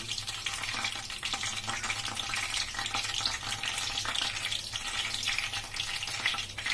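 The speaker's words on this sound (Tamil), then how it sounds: "இந்த மாதிரி தட்டிட்டு நம்ம எண்ணெயில போட்டு ஃப்ரை பண்ணிக்கலாம்." Cauliflower and bread fritters, patted flat like vadai, frying in hot oil over a medium flame, giving a continuous dense crackling sizzle that stays steady and close throughout, with no voices.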